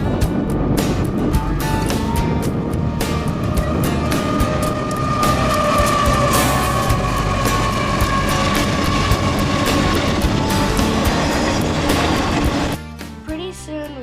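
Freight train rolling past just outside King City in the Salinas Valley, a loud steady rumble of wheels and cars lasting several seconds, with a horn-like tone threaded through, then cutting abruptly near the end.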